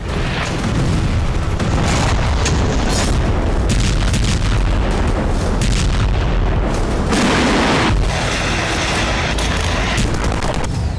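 Heavy explosions and booming blasts from Russian attacks on Ukrainian cities roll on continuously at close range, loud and dense, with overlapping thuds and bursts filling the whole stretch.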